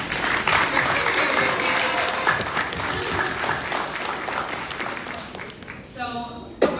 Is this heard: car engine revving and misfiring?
no